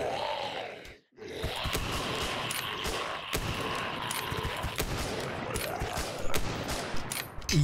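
Rapid bursts of gunfire aimed at zombies in a VRChat horror map, Dream Walker, fire repeatedly across the whole stretch, sharp cracks stacking into a dense fusillade with occasional groans and gasps mixed in.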